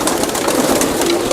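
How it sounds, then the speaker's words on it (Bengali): Pakistani Tedi and Kasuri pigeons coo inside an indoor loft room, a dense chorus of low murmuring calls from several birds over a steady, fairly loud background hum with no talking. "আমরা এখন আছি কবুতরের রাজ্যে"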